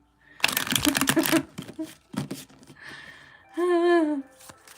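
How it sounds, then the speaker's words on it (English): A deck of tarot cards being shuffled in a burst of rapid riffling flutters, then a few soft card taps, followed by a voice talking nearby. "These ones need a good shuffle."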